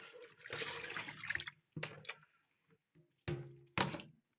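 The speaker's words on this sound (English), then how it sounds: "So I'll pour in another water." Water poured and sloshing over editan leaves being rinsed for soup, several separate splashing bursts with short quiet gaps between them, fairly close.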